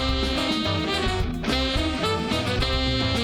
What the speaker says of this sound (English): That's the MIDI with the real sax.